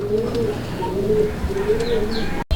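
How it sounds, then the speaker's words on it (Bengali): Pigeons cooing at a market stall selling large pigeon breeds: a steady run of soft, rolling coos from nearby birds, repeating in gentle waves with faint background chatter and a brief bump at the end. "এই মুহূর্তে আমরা দেখতে পাচ্ছি আরও এক জোড়া কবুতর"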